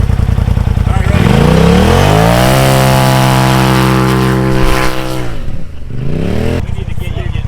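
A turbocharged Polaris RZR Pro XP 4 side-by-side revs hard on the sand dunes at Sand Hollow. The loud, close engine climbs in pitch, holds a sustained roar, then drops away before picking up again.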